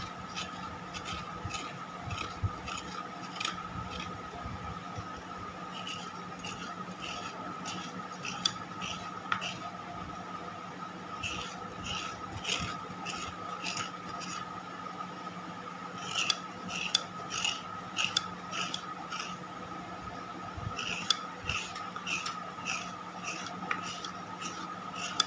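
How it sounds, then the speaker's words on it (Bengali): Fresh coconut is grated by hand for a prawn malai curry in a home kitchen, with bursts of quick rhythmic rasping scrapes over a steady background hum, fairly faint. "নারকোলটা খুব ভালো, একটু কুড়িয়ে নেবো না মালাইকারি করার জন্য"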